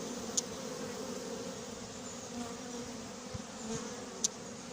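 A honeybee swarm being hived at Montgeron hums with a steady, fairly quiet drone, with a few brief sharp ticks and knocks over the buzzing.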